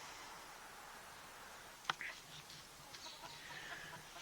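Faint clucking from hens at a distance by a farm chicken coop in cold weather, over steady outdoor noise, with a sharp click and a few soft calls.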